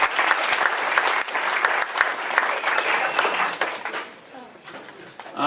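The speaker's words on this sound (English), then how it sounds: "I'd like a round of applause for making it to 73" Applause from a community-meeting audience, steady and fairly loud, thins out over the last couple of seconds before a short swell at the end.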